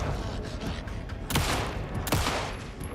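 Gunfire in the video game Alan Wake 2, during the Lake House DLC, comes as two loud sharp shots about a second apart over a dense, dark ambient game soundscape.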